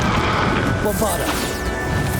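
Bombarda blasting spell explosion in the video game Hogwarts Legacy, a loud crashing impact amid dense combat effects and game music, with a voice speaking over it.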